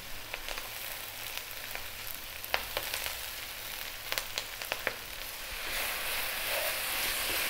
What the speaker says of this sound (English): we're going to stir fry this around now for 5 or 6 minutes